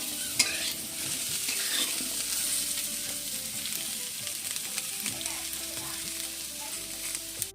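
Tomato and green chilli frying in a pan in a home kitchen give a constant close sizzle, with soft stirring scrapes now and then.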